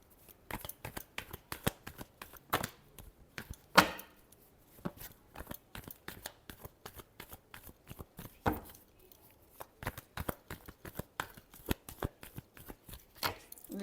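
Tarot cards being shuffled by hand, a long run of quick riffling bursts and soft papery slaps with short pauses between them, close and fairly quiet with no talking.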